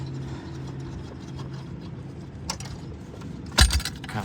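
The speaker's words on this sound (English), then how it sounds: "you get the tire iron and extensions. These unscrew like so" Tire iron extensions from a 2019 Silverado 3500 spare tire tool kit are unscrewed, giving quiet metallic rattles and a couple of sharp clinks close by in an otherwise hushed space.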